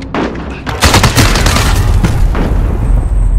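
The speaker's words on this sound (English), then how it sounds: "Oh, somebody sniping at me." Loud sniper gunfire in a video game, with a dense burst of booming shots and rumbling reports that fill the whole clip at close range and high volume.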